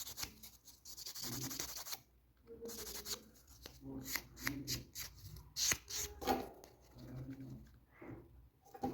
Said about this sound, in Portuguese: Essa lateral pra mim é sempre mais difícil de lixar.